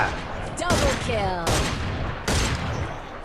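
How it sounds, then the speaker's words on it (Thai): Turret gunfire in the Free Fire game, shots punching through a roof while the player hides inside a house: three loud bursts of booming fire, each trailing off, with whistling projectile sweeps between them. "โอ้ป้อมยิงทะลุหลังคา"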